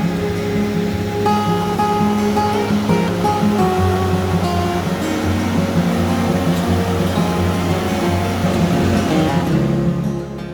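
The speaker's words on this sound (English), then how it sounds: "you can hear the river" A river flows beside a forest trail in Colorado, a steady, loud broadband rush that holds constant throughout, with some tonal layers riding over the water noise.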